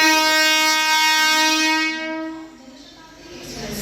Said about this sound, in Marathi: तसं आमची लोकल ट्रेन पण गेली आवाज करत